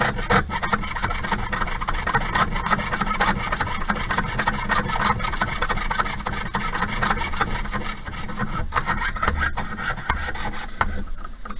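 A jeweller's piercing saw cuts a metal pendant held against a bench pin, a steady rapid rasping of fine strokes that continues throughout, close and fairly loud, with no speech.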